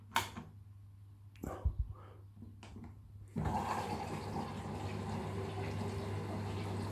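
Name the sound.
water filling appliance during rinse cycle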